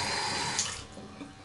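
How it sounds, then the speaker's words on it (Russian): Water runs steadily from a tap into a sink as a close, hissing rush that eases off slightly toward the end, with no talking. "А чё я воду не выключила?"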